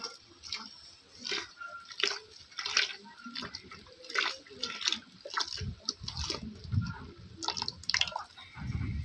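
Rice flour starch poured into a pot on a wood-fired stove while being stirred, giving soft wet drips, splashes and squishy liquid sloshing in an irregular rhythm, close and fairly quiet.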